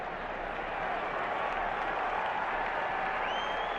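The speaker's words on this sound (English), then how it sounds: "you can hear a smattering of Cardinal fans near the visiting dugout applauding the fact that Ankiel is going to hit" Scattered applause from Cardinals fans near the visiting dugout at a Cardinals–Cubs baseball game, a steady broad patter of clapping and crowd noise running continuously at moderate distance with faint murmur underneath.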